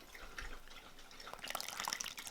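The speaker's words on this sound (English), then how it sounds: "Oh, yes, the dog is drinking." A dog laps water in a kitchen during vegan gluten-free soda bread baking, a soft wet dripping and splashing that grows busier and brighter toward the end, fairly faint and close.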